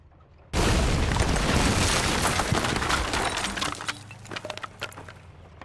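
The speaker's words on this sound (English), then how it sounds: "I've got a nade in the House of Pain there." A grenade detonates in the tactical shooter Project Reality, a sudden loud blast that rolls into a long crackling, debris-filled roar before thinning into scattered rattles and clinks.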